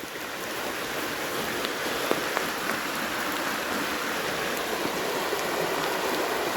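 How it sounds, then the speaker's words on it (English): Torrential rain pours steadily on a wild camp, a dense, unbroken hiss with scattered louder drops, with no voices. "but the rain just won't let up."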